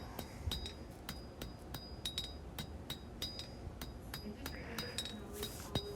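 Rapid metallic hammer blows ring out on an anvil as a hand-forged knife blade is drawn out, sharp clinks in an irregular rhythm at close range, some strikes clustered, with a faint background hum.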